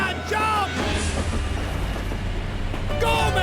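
Train sequence from the Call of Duty: Black Ops video game, with a loud, steady rolling rumble of the moving train throughout and shouting voices at the start and end.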